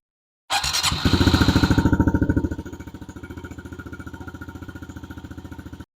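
A warmed-up Honda CRF110 dirt bike engine idles close by, its rapid, even single-cylinder putter loud at first, then settling to a slightly quieter steady beat.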